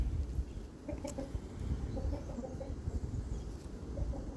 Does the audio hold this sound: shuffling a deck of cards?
no